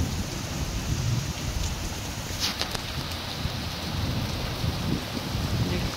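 Heavy rain from Cyclone Dana pours down in Angul, a dense, steady hiss of downpour with no break and no voices.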